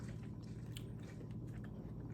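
Chewing a cold acai bowl topped with crunchy granola, berries, sliced banana and honey, with soft, close mouth sounds and light crunches repeating steadily over a low background hum.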